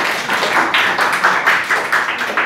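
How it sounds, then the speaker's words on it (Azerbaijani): Steady applause from a small quiz audience at a world-countries auction-style contest, many hands clapping close and bright in an even, unbroken rhythm for a couple of seconds. "Gəlin Röyşəni alqışlayaq."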